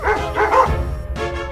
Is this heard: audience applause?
no